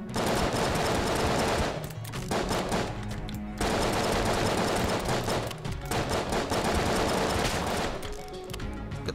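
Gunfire from a mimic enemy in the Enter the Gungeon video game, a dense, loud stream of rapid shots with brief breaks, no talk.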